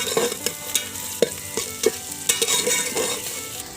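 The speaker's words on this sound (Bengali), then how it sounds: "এবার ভালো করে মশলাগুলো ভেজে নেব।" Whole spices with bay leaf sizzle in hot oil in a pan for a potato-apple mutton curry, with a spoon scraping and stirring in quick, uneven strokes over a steady close frying hiss.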